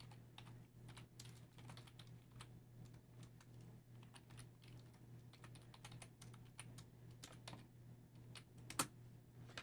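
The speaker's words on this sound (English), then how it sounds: "I could go ahead and type these into a LinSolve" Steady rapid key presses on a TI-Nspire graphing calculator, a dense run of small plastic clicks over a low constant hum, close and fairly quiet.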